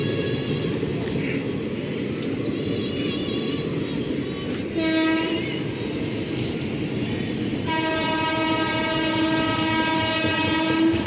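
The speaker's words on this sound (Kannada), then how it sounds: "ಟ್ರೈನ್ ಬಂತು ಇವಾಗ." A train pulls into Bidadi railway station with a loud rumble and clatter, its horn blaring in two long blasts, the second sustained to the end, close and dominating.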